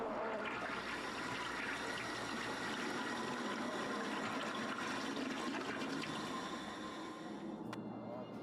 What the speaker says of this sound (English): Why is she flushing the toilet so many times?